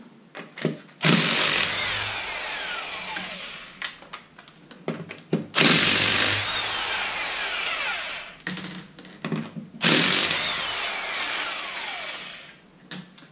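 A Harbor Freight electric power tool used on a Jeep rear axle job, fired in three loud bursts a few seconds apart, each a harsh whirring rattle with quieter clatter and handling noise between.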